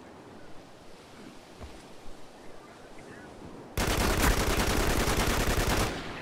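Gunfire in a multiplayer match of the video game Spec Ops: The Line: a low, rumbling battlefield ambience, then a loud sustained automatic burst of rapid shots lasting about two seconds that ends abruptly.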